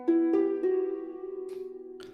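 Instrument patch in Cubase with reverb on a normal send at zero fader, three plucked attacks ringing into one long sustained note with a soft wavering tail and faint breathy noises near the end.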